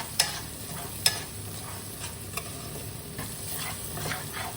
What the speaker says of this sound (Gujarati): અને હવે આ બધું સરસ મિક્સ કરી દઈશ.